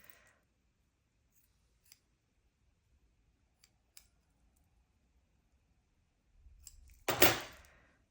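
Scissors trimming needle felting wool, a few faint isolated clicks followed by one louder, close snip with a brief rustle, otherwise quiet.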